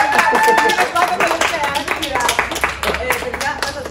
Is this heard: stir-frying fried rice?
no